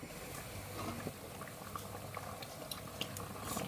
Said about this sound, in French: Allez, on mélange tout ça et on continue à laisser bouillir.